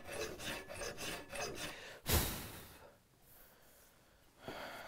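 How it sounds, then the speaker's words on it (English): A hand file is drawn across a wrought iron door bolt in steady rasping strokes, then one louder scrape. It is quiet and close, with soft breathing and no speech. "So now I'm just going to go ahead and start draw filing it."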